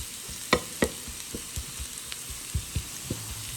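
Russet and golden potato hashbrowns frying in a pan, a steady close sizzle with intermittent scraping and stirring knocks scattered across it.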